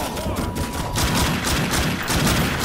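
Rapid bursts of gunfire from the video game The Darkness II fill the clip, loud, dense and continuous, with shots overlapping into a near-steady barrage.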